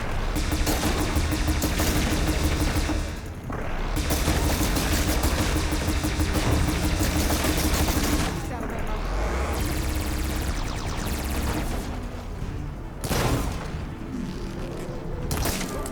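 Dense, loud video game combat in Horizon Forbidden West, with cannon fire among booming blasts, crashes and rumbling over continuous sound effects, with no clear pauses.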